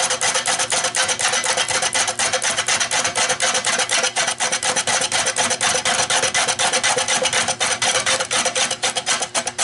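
A gouge cuts a catalpa wood bowl on a Nova lathe, giving a steady, loud, continuous rasping hiss with a fast rhythmic flutter from the spinning blank, close up and without talk.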